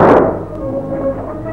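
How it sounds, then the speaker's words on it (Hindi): A single sharp gunshot-like crack from a Pakistani film scene, set on an upper floor of a hotel, hits loudly at the start and then decays into a low rumbling tail. "ये गोली की आवाज है, शायद ऊपर की मंजिल में चली।"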